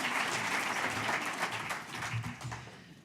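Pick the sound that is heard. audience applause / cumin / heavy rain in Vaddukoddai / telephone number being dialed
audience applause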